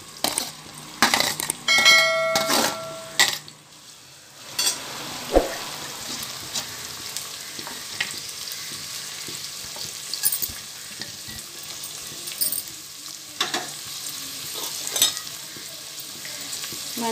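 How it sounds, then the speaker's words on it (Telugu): Green chillies and onion pieces frying in oil in a pan for a prawn curry: a steady sizzle fills the clip, with a few bright metallic clinks near the start and occasional stirring scrapes. "ఆయిల్ వేసిన తర్వాత పచ్చిమిర్చి ఆనియన్ ముక్కలు వేసుకొని ఫ్రై చేసుకోవాలి"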